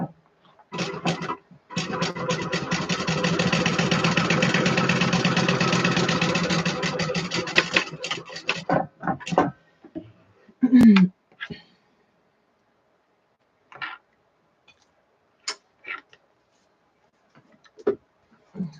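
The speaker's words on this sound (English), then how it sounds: "And then we're gonna baste this back section closed." A sewing machine basting a fabric wallet section closed runs in a fast, steady mechanical stitching rattle for several seconds, then stops, followed by scattered handling clicks and soft sounds in quiet.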